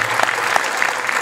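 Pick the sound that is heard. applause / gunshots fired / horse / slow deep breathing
applause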